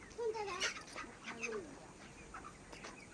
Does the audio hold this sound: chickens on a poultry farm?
yes